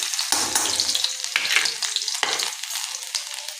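Cumin seeds, mustard seeds and finely chopped garlic sizzle and crackle in hot oil, with a spoon stirring and scraping the pan in short strokes, loud and close with no talk.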